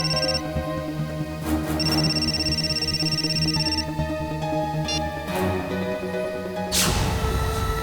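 A mobile phone ringing, with a repeating electronic ringtone of bright tonal pulses playing loudly over music and background sounds for several seconds.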